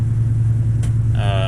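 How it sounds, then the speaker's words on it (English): An old air compressor engine idles with a steady, loud low rumble throughout, and a faint tonal whine rises near the end. "just basically shuts off the air compressor as it's idling down"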